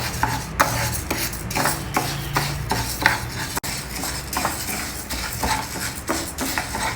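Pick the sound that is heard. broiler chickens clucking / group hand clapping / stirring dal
stirring dal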